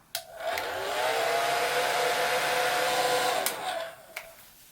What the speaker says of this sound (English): you can dry it with a hairdryer